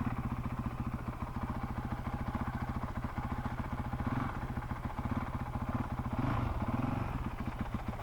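A Honda CRF450RL dirt bike is ridden through a tight figure eight, its single-cylinder engine chugging and clattering steadily at close range, with slight rises and dips in throttle as it turns.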